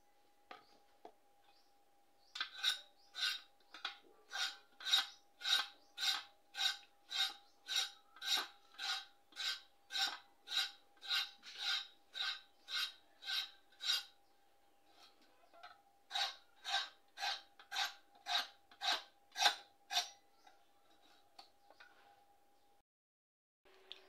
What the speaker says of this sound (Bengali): সবগুলো পটল আমি এভাবে কেটে নিয়েছি, কেটে ধুয়ে নিয়েছি